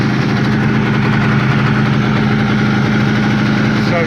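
A 1986 Suzuki RG400 Gamma two-stroke motorcycle engine idles steadily just after a cold kick start, a close, constant buzzing drone with no breaks, with choke still on.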